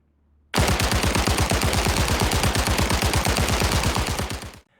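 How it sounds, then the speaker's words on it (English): Loud, rapid automatic gunfire from the VR shooter Zero Caliber Reloaded on Oculus Quest 2, a sustained burst of evenly spaced shots lasting several seconds before cutting off abruptly. "The sound of your gunfire was another highlight"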